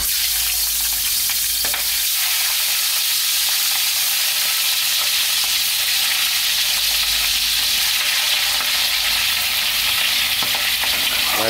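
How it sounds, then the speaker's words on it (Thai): Shrimp frying in hot oil in a wok, a loud, dense, continuous sizzle and hiss held steady throughout. "ขั้นตอนแรกให้เรานำกุ้งมาทอดก่อนนะครับ"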